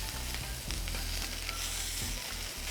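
Thick-cut steak for a steak rice bowl searing in a hot pan, a continuous dense sizzle and crackle close up, with low rumbling underneath and no speech.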